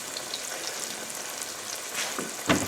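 Steady crackling sizzle of boneless buttermilk chicken thighs frying in hot olive oil, close by, with a brief louder spatter near the end.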